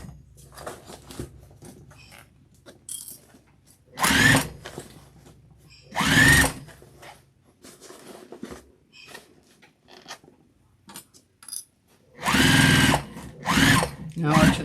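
A sewing machine stitches a tote bag in several short motor bursts, each a few seconds long, separated by pauses, close and fairly loud, while a person talks between runs.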